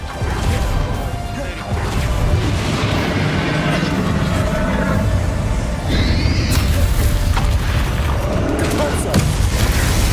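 Bombarda and Confringo spells burst in Hogwarts Legacy combat: heavy booms and crashing blasts with swooshing whooshes, loud and repeated over dense battle noise, with a voice in the mix.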